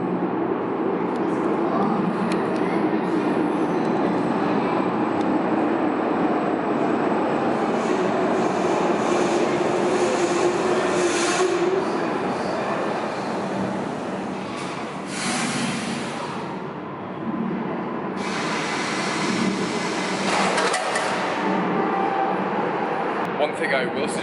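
A Budapest metro train runs through a station, a loud, steady roar of wheels and motors that rises and falls over more than twenty seconds, with a few bursts of hiss.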